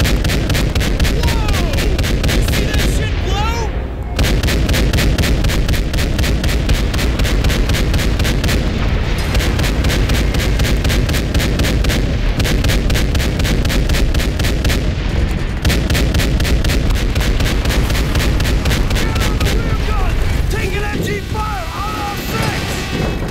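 Relentless, loud gunfire and artillery blasts from the World at War air warfare mission pound continuously for over twenty seconds, with brief lulls and voices talking beneath the barrage.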